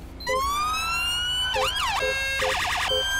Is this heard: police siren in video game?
yes